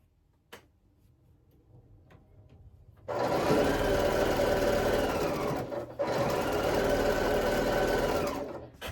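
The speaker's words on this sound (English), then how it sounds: "So I'm going to put these together and sew this up." A sewing machine stitches quilt pieces together for a Mystery Quilt, running in two long steady bursts with a brief pause between them after a quiet start, close and loud with no talking.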